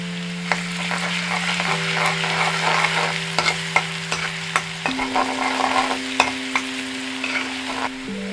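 Garlic sautés in a pan for Kerala-style beef cutlet, a steady close frying sizzle broken by sharp spatula scrapes and clicks, while a low sustained tonal hum shifts pitch underneath, no voices.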